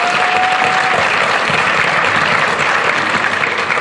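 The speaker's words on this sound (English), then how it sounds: "Give yourselves a big round of applause." A live audience at an evening show applauds in a dense, loud, continuous wash of clapping that holds steady throughout, with a faint tone briefly at the start.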